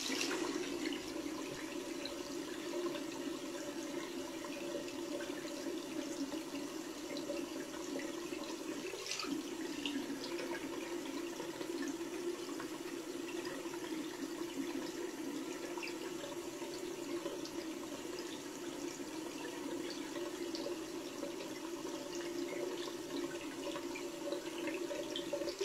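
Cold water streams steadily from a tap to wet an alum block during a shave, a constant close hiss and splash lasting throughout with no talk.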